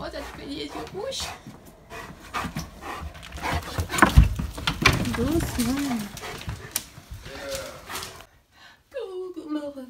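A pet dog pants in quick, rhythmic breaths close by, with whimpers and movement noises, while someone speaks softly in French over it.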